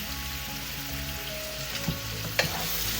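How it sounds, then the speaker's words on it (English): Vegetables sauteing in a pan for kare-kare, an oxtail peanut stew, with a steady close sizzle and a few light clinks from stirring, no talk. "as we're still in the sauteing process"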